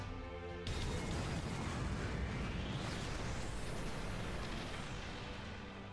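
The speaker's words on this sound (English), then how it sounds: "ready the main cannons" Heavy booming ship cannon blasts in a video game erupt after a brief lull, merging into a sustained roar of gunfire and rumbling explosions that fills the whole stretch.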